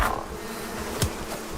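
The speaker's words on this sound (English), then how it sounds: "I hear a beehive up ahead." A beehive in the survival game Icarus gives off a soft, continuous insect buzz, faint and steady, with a couple of brief thuds in the background.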